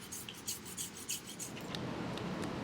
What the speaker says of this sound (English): If you're using sandpaper to make a subtle texture or to prepare for high grit polishing, it's important to be methodical.